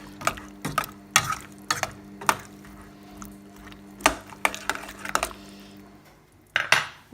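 A spoon clinks and scrapes against a pot while a vegetable stock cube is stirred into cauliflower soup, in sharp irregular taps and rattles, close and fairly loud.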